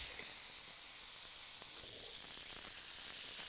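Spam and pineapple kebabs sizzle steadily in a hot pan, a constant hissing frying sound at moderate level with no talking.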